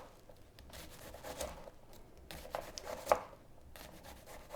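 A knife slices an onion into thin slices for carrot-ginger soup, making soft, close scraping and crunching strokes in an irregular rhythm, with a sharper cut near the end and no talking.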